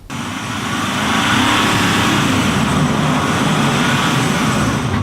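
Loud, steady engine and road noise from inside a moving 2016 Nissan Titan XD diesel pickup truck on the highway, a continuous rumble and broad hiss with no talking.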